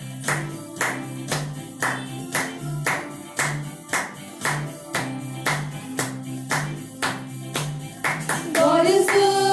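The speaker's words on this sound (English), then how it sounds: "Let us clap our hands." A congregation claps hands in a steady, rhythmic beat during a charismatic Catholic worship song, each clap crisp and evenly spaced over sustained sung and instrumental tones, growing busier near the end.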